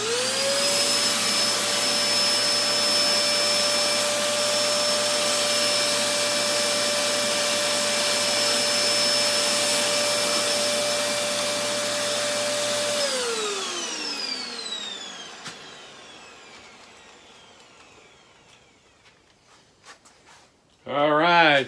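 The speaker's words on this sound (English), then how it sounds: "Get my little vacuum here" A small handheld vacuum whines steadily at high pitch, then winds down and stops, followed by a brief clatter.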